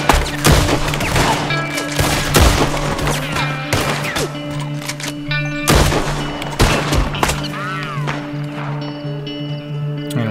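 Gunfire in Red Dead Redemption 2, a loud close barrage of repeated shots and cracks in irregular bursts over a droning game music bed, with sharp blasts spread across the whole stretch.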